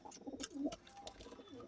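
Giribaz pigeons in a loft give soft, low cooing calls in short repeated bursts, close and moderately loud with some background rustle.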